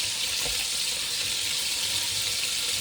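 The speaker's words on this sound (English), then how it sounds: "I'm now getting this pan sizzled up. We're going to put the 2 halves of tomatoes in, the mushrooms" Tomato halves, mushrooms and seedless sweet red peppers sizzle in a hot frying pan, giving a steady, close hiss with no break and no voices.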